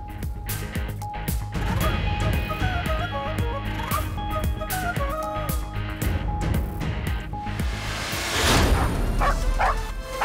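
Many dogs barking at a street protest in Parliament Square, London, a dense overlapping chorus of yips and barks with crowd noise, rising into louder commotion near the end.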